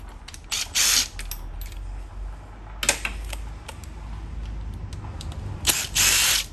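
Bolts on a Vespa GTS being unscrewed in a cross pattern, heard as close ratcheting and mechanical clicks broken by a few loud bursts of whirring, with no talking.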